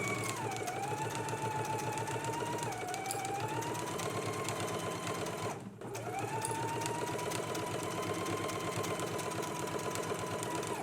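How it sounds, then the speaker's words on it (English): A domestic sewing machine stitches a 5/8-inch seam along a jacket's double-notched edge, whirring steadily and close up with a rapid needle rhythm, broken only by one brief stop near the middle. "let's go ahead and stitch along the double notched edge using a 5/8 of an inch seam allowance"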